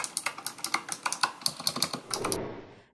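Typing on a Razer Huntsman Mini optical keyboard, Mercury White edition, gives a fast, even run of crisp clicky keystrokes close up. They stop abruptly near the end.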